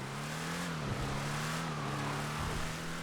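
A car in GTA Online, the Grotti Brioso R/A or Lampadati Viseris, drives on asphalt with a steady, loud engine drone that rises and holds through the corners, with no talk over it.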